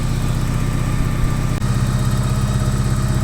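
A 1984 Porsche 944 NA engine idles while warming up, giving a steady, close, loud low rumble with an even mechanical pulse and one brief dip midway.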